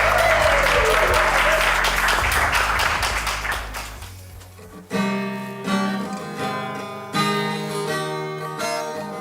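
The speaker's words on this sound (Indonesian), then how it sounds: "Kasih tepuk tangan dong buat Chelsea." Dense applause with clapping fills the first few seconds, near and loud, then tapers off as soft music with piano-like notes takes over.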